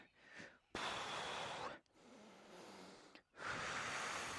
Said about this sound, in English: I'm now breathing out as I lean back